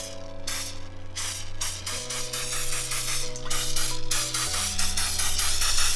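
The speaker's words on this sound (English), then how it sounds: "grab your canola oil, spray down the pop cake pan, and every spritz is 0 calories" Canola oil cooking spray spritzed onto a cake pop pan, a sustained hissing aerosol spray with a few short pulses, heard up close over a low electrical hum and tones.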